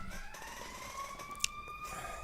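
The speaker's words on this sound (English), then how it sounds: "Is that an ambulance?" A distant emergency siren wails faintly with a slowly rising tone, under a muffled indoor hum, with a brief sharp click partway through.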